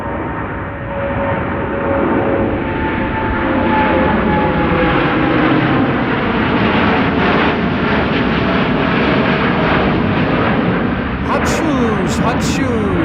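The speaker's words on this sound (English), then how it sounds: "the TUI Dreamliner." A TUI Boeing 787 Dreamliner departs Amsterdam Schiphol for Punta Cana, its loud, sustained engine roar rumbling throughout, with a few brief clicks near the end.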